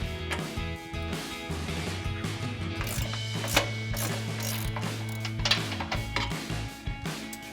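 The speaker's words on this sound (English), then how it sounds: "We're gonna grab our 18mm ratcheting wrench for the heads on the inside" An 18mm ratcheting wrench working on the upper control arm bolts of a Ford F-150, close repeated ratchet clicks in quick bursts with short pauses between strokes.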